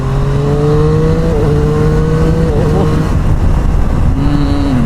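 A Triumph Street Triple R motorcycle in sport mode revs under riding, a loud, continuous engine note rising and falling in pitch with wind noise throughout.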